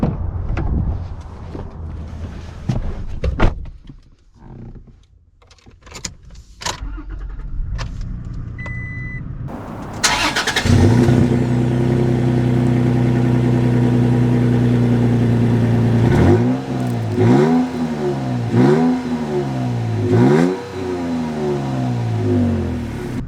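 Manual Toyota Tacoma TRD pickup, modified, starting up and pulling away: handling clatter first, then a steady engine drone inside the cab that rises and falls in repeated revving sweeps as it accelerates through gears.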